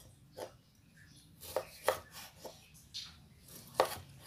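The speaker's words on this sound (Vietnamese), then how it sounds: "Chúng ta đi cắt chanh nha các bạn." A knife cuts limes on a board while a vegetarian oyster mushroom salad is prepared, making a handful of sharp, irregular chops close by in an otherwise quiet kitchen.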